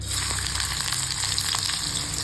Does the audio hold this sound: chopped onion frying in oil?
yes